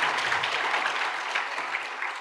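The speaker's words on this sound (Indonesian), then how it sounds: "Tepuk tangan dulu deh buat Kak Re deh." A congregation gives a short round of applause during a church talk, a soft, fairly distant patter of clapping hands that holds evenly and tapers slightly.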